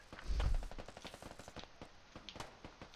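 An airstrike hits an enemy vehicle in the military shooter game Squad: a deep, loud boom early on, then dense rapid bursts of gunfire crackling steadily to the end.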